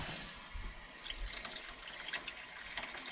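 Water drains from a domestic heating system, a faint steady trickle and splashing with a few small drips, heard alone without talk.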